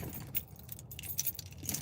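Keys jangle close by in a short, faint burst of rapid metallic clinks, with no one speaking.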